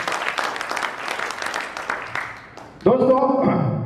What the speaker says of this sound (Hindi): एक बार जोरदार तालियां अपने लिए दोस्तों